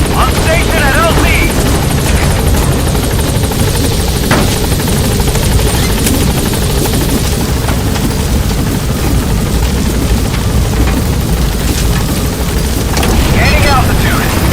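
The B-Quad helicopter in Metal Gear Solid V roars as it arrives at a landing zone, a loud, steady rotor thrum and engine drone lasting throughout.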